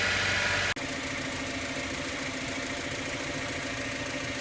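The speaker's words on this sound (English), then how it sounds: "This engine is idling perfectly at warm idle" A 1997 Honda Civic DX with a five-speed sits at warm idle after its idle air control valve was cleaned, giving a steady, even mid-pitched hum from close by that is briefly cut by a sharp click near the start.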